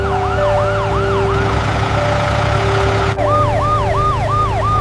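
A police car siren wailing continuously, loud and close, cycling through a rapid rising-and-falling yelp pattern with a steady engine hum underneath.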